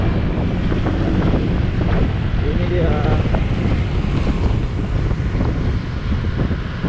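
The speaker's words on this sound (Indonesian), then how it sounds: "Anginnya deras banget." Strong wind roars and buffets the microphone continuously while riding a Honda PCX scooter across a bridge, with a voice speaking briefly under the loud rushing noise.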